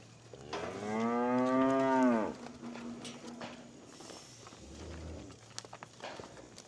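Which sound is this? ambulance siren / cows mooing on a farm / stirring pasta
cows mooing on a farm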